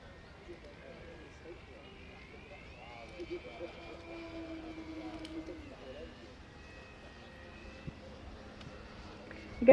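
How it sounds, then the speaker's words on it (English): Electric aerobatic model aircraft whine faintly in the distance at an outdoor air show, their pitch rising and falling as they manoeuvre, beneath a voice speaking nearby. "So, variety of different electric aerobatic models here."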